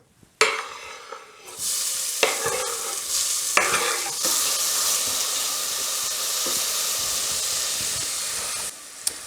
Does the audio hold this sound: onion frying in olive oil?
yes